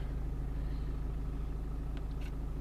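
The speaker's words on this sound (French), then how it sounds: "vous pouvez l'entendre, le moteur est un petit peu sonore, c'est le défaut des BMW diesel, surtout les 4 cylindres" BMW 418d Gran Coupé four-cylinder diesel idling just after starting, a steady low rumble with a faint clatter, heard from inside the car and continuing evenly throughout.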